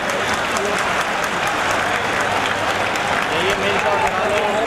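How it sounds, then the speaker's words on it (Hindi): Sustained applause from a large crowd at a political rally, dense steady clapping that stays loud and unbroken from start to finish. "आप सबकी तरफ से कर्तव्य ध्वनि के साथ तालियों की आवाज मंच तक आनी"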